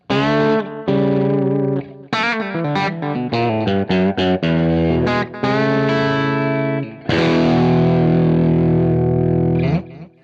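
Electric guitar played through a Shawn Tubbs A.P.E Echoplex preamp rings out loud and distorted, with a run of quick picked notes, sustained chords and echoing repeats between short pauses.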